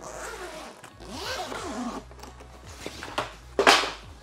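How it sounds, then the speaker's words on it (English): A fabric zipper on the top flap of the carry bag for an EcoFlow River 2 Pro portable power station is pulled open in several close, scratchy strokes, finishing with a louder final zip. "we do have like the high quality zipper in the top part right here"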